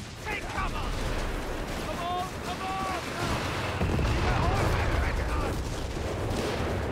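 Continuous booming artillery barrages from the Company of Heroes 3 strategy game, a dense rumbling wash of distant shell impacts and gunfire with brief tonal game effects layered over it.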